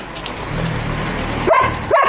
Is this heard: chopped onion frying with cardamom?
no